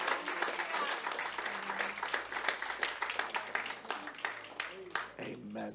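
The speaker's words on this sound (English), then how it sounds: "Let's give a round of applause." A church congregation at a Mother's Day service applauds, a dense wash of clapping that stays fairly quiet and distant, with a few voices mixed in before it thins out near the end.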